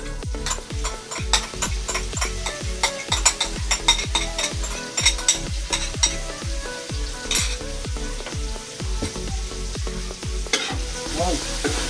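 Tofu and fermented black beans stir-fried in a pan for bangus: rapid, rhythmic spatula scrapes and clacks repeat over a constant loud sizzle, close and busy throughout with no talking.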